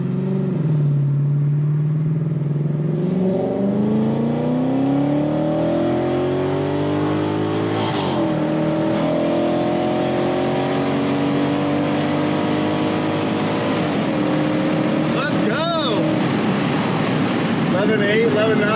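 A car with a Seafoam-treated transmission accelerates hard, engine pitch climbing steadily and shifting up through the gears, loud and close throughout with a voice speaking over it.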